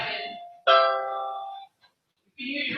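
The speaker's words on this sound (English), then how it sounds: "You can use your words instead of pushing the doorbell." A doorbell rings with two clear chime tones, a short ding and then a longer, ringing dong. After a silent gap a third tone begins.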